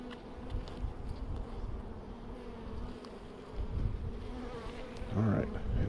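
A honey bee swarm being moved into a deep hive box hums with a dense, steady buzz that holds through the whole stretch, fairly close, with a brief louder swell near the end.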